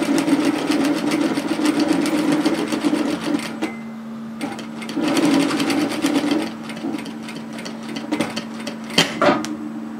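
A home sewing machine runs in fast bursts as it stitches fabric for a shacket, a rapid mechanical whirring with short pauses between runs and a few clicks near the end, close and loud.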